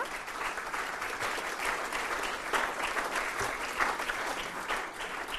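At a management awards ceremony, an audience applauds in a dense, steady ovation heard from within the hall, with no talk over it.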